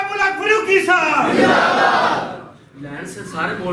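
A large crowd at a religious conference roars back a unison chant in answer to a Nara-e-Takbeer call, loud and close, the collective shout swelling then fading before a second burst of voices.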